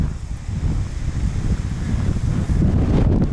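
Strong wind gusts across exposed high ground near New Plymouth, New Zealand, roaring and buffeting the microphone in a dense, continuous rumble that swells louder toward the end.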